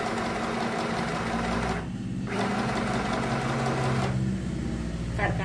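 Sewing machine stitching bra fabric, a fast continuous mechanical whir that pauses briefly twice before resuming, close and steady.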